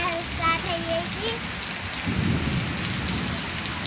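Heavy rain pours steadily near a village lake, a dense hiss throughout, with a low rumble of thunder rolling in partway through.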